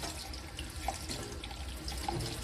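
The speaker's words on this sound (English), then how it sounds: "So now I'm going to take it to the sink and I'm going to rinse it." Hot water runs steadily from a sink tap as wet-felted wool Easter eggs are rinsed of soapy residue and squeezed, with a continuous splashing stream and occasional soft drips close by.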